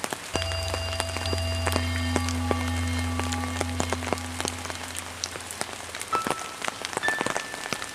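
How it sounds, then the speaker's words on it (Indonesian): Light drizzle patters steadily on rice paddies and a hut roof in rural Indonesian farmland, a dense soft hiss of small drops with scattered louder taps, over a low steady hum. "gerimis."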